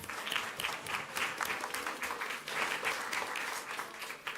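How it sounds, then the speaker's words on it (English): An audience at a school board meeting applauds a school principal and a teacher, with many hands clapping in a continuous, even patter for several seconds, heard alone without talk. "Let's give them a round of applause."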